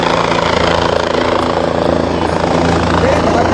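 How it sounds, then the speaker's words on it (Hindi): A helicopter arrives at the Kedarnath helipad with a loud, steady rotor and engine roar that runs the whole time, and voices are heard under it. "तो ये है हेलीपैड और एक हेलीकॉप्टर आ रहा है, देख सकते हैं।"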